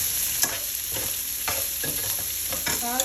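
Urad dal and chana dal frying in hot oil for a tempering, a steady close sizzle with a spoon stirring through the pan in repeated scrapes.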